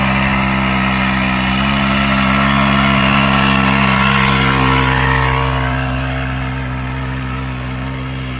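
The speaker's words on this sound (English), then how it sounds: "Sad little moped." A small moped engine runs steadily with a buzzing, droning hum, close and fairly loud, easing off slightly toward the end, with no voices.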